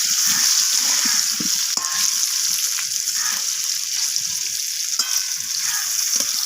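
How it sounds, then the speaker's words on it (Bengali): Potato pieces frying in hot oil seasoned with salt and turmeric, a steady loud sizzle that runs continuously with occasional stirring scrapes, no voices. "লবণ আর হলুদটা আমি মিশিয়ে নিয়ে আলুটাকে লালচে করে ভেজে নেব"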